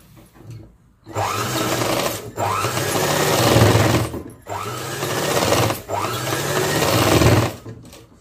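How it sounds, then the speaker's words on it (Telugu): A sewing machine stitching a boat neck long frock runs in four loud, even bursts of rapid mechanical whirring, each separated by a short pause, close up and with no talking. "నేను కుట్టు అయితే వేసి చూపిస్తాను చూడండి."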